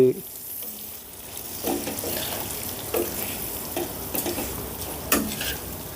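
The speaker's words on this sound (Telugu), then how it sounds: "ఈ వేసిన వెల్లుల్లి కారం దొండకాయకు పట్టేటట్టు ఒకసారి బాగా ఇలా కలిపేసి" Ivy gourd tossed with garlic chili powder and frying in a pan on low flame, a steady sizzle broken by repeated stirring scrapes and light spatula knocks, with no talking.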